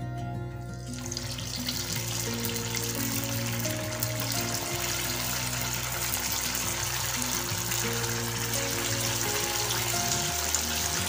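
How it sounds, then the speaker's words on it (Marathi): Sabudana vadas flavoured with red chilli powder frying in hot oil over medium heat, a steady, dense sizzle and hiss that continues evenly throughout with no talk. "आता आपण यामध्ये वडे तळून घेऊया।"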